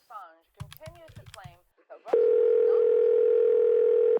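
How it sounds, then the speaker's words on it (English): A telephone dial tone comes in loud and steady and holds to the end, right after a short burst of speech-like chatter and a few brief tones. "let me call my wife Marla."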